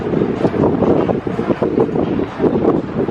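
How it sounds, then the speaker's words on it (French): Warm night wind in Dubai blowing steadily across the microphone as a continuous broadband rush with gentle gusts, no talking. "Il y a une espèce de vent chaud, mais qui est agréable la nuit."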